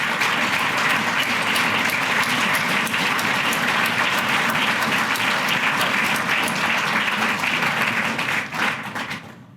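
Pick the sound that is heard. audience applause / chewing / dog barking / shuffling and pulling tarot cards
audience applause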